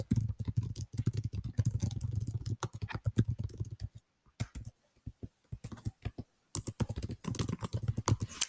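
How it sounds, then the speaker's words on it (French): Steady, fast typing on a computer keyboard while writing a comment in Google Docs, close and crisp, with a brief pause midway before the rapid keystrokes resume. "je peux commencer à taper mon commentaire"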